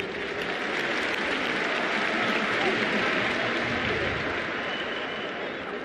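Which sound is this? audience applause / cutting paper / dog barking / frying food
audience applause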